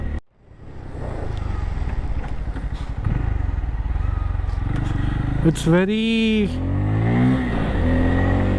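A Bajaj Pulsar 250N motorcycle engine hums steadily while riding at around 40 to 50 km/h, a close, continuous drone with a brief rise midway, and someone talks over it.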